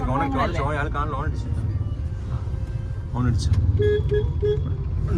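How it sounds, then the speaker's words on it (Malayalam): A container truck passes on a busy highway, its rumble swelling over steady traffic noise with a few short horn toots, while someone talks at the start. "ഒരു കണ്ടെയ്നർ അങ്ങ് പാസ് ചെയ്തു"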